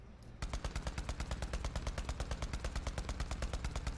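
Rapid automatic gunfire in the video game Borderlands 3, a steady stream of evenly spaced shots starting after a brief pause and continuing loud and close for several seconds, with no talk over it.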